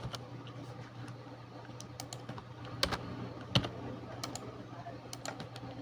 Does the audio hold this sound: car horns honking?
no